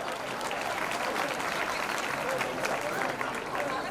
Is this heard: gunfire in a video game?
no